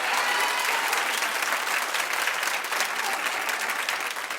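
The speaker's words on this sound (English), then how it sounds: "clap if you'd like to see this happen." Studio audience on a daytime talk show bursts into sustained, dense applause, heard as a steady loud wash of clapping that continues without talking.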